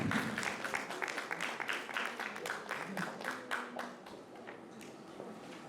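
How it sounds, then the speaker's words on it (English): Audience applause at a formal event honoring a speaker, fairly quiet and somewhat distant, with individual claps audible in an uneven rhythm that gradually softens. "Please give Dr. Grace another round of applause."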